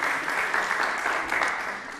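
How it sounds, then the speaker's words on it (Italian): Audience applause at a talent show, a steady wash of many hands clapping throughout, even and fairly loud with no voices standing out. "E con questo applauso accogliamo qua a Laura Esposito."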